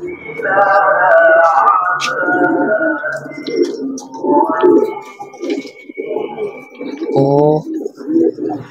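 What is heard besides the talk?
domestic pigeons cooing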